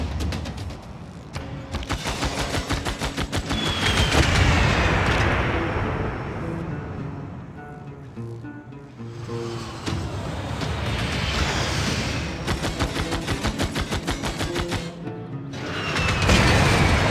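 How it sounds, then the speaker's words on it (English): Heavy artillery bombardment in the strategy game Civilization 6 with Warhammer units, repeated booming blasts and rattling volleys rolling on continuously, loud and dense with no talk. "Okay, let's continue bombarding."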